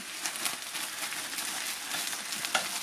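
Beef stew meat browning in a pot, a steady broadband sizzle with soft scraping stir strokes over it, close and even in level.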